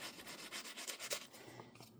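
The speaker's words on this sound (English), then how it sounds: "let's take the pink dauber and rub over that and see if it picks up." Pink ink dauber being rubbed over textured tissue paper, giving faint close rhythmic scratchy strokes that repeat quickly and then trail off.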